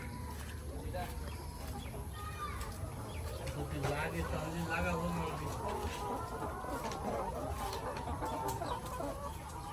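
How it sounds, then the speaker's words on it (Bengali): Layer hens on a poultry farm clucking and calling, several birds overlapping at close range against a constant background hum, with people talking over them. "কতগুলো আছে মুরগি"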